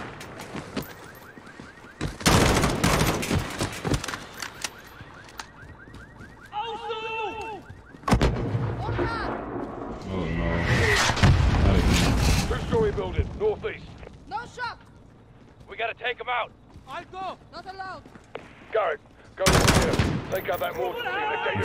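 Bursts of rapid automatic gunfire and heavy booming blasts from Call of Duty Modern Warfare gameplay come in loud waves, with a player talking over and between the shooting.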